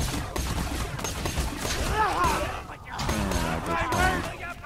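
Rapid gunfire from a weapon in Borderlands 2 crackles in dense bursts throughout, with voices speaking over the shots.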